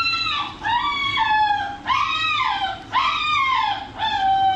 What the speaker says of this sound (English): Dog acts like it's being murdered.